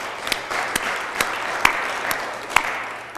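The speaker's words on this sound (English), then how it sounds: "please let's give them a round of applause." An audience at a sister city ceremony between Milwaukee and Medan, Indonesia, applauds in a steady, full wash of clapping with a few sharper individual claps standing out, heard from within the room.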